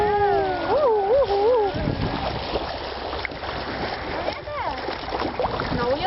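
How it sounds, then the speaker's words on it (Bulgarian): A rafting trip on the Tikva river, with water splashing and rushing against a raft as it runs through waves under wind noise, while excited voices shout and whoop over it. "Ето вълните срещу нас. Хайде да прегазим!"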